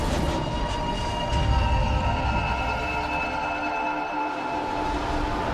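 A train in the game Deus Ex Mankind Divided rumbles steadily with a low, continuous rolling drone and faint tonal hum, no voices over it.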